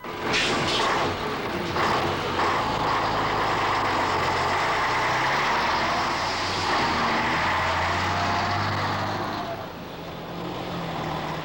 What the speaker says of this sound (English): Like the rock band they service, the trucks are noisy, modern and effective.